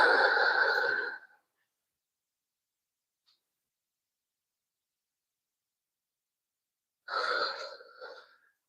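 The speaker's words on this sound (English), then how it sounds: "Breathe. Inhale in your nose." A person exercising takes two breaths in through the nose, each a short airy rush. A long silent stretch separates the two.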